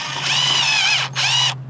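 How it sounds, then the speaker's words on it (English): A power drill drives a self-tapping screw into a pre-drilled hole in the bumper of a 2015-2021 Subaru WRX/STI during a carbon lip install, whirring in two close bursts with a short pause between them and no talk. "Just go ahead and put a self-tapper through that pre-drilled hole."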